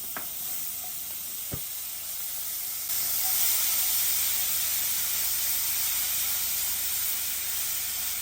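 Butter sizzles and hisses steadily in a hot pan with aromatic bits for a shrimp pasta. A couple of faint clinks are heard early on, then the frying grows slightly louder and fuller.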